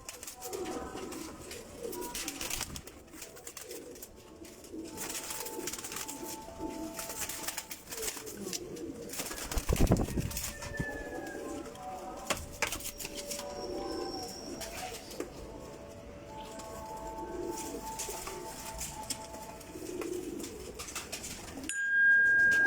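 Soft cooing of Teddy pigeons murmurs on and off through a steady outdoor background, with a sharper thump near the middle and brief chirps.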